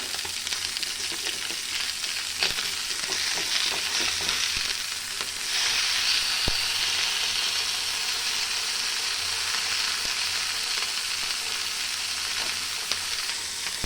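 Bangadi mackerel fish fry roasting in a pan on the stove: a steady, dense sizzle of hot oil holds throughout, growing a little louder midway, with a few faint clicks and no voices.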